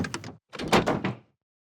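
A door thunks shut in an animated episode, two short bursts of knocking, banging impacts close and clear, with silence after.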